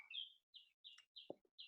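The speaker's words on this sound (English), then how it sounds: "Birds are chirping right now." Outdoor birds chirping in short bright repeated calls, about five quick chirps in succession, fairly faint with quiet gaps between and a brief soft knock partway through.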